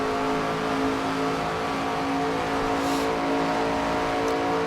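NASCAR stock car engines roaring in the NASCAR 25 game at Bristol or Kansas, a dense continuous multi-car drone that holds steady and loud throughout.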